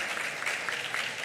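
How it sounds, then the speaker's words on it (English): Audience applause at an academic conference session, a steady dense wash of clapping filling the short moment without any voices on top. "So please give a round of applause to"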